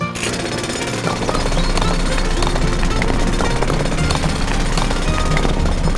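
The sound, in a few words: cartoon drill breaking a pile of rocks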